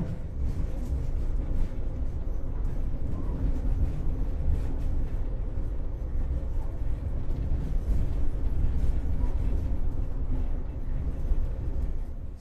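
Baturaden Express passenger train running on rails in Indonesia, a steady low rumble and rolling drone held at even loudness throughout, with faint rhythmic clatter of wheels and no talking.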